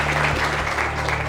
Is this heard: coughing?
no